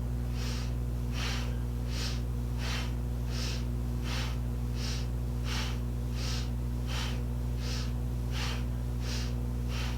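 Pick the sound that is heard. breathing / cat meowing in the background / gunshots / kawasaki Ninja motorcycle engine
breathing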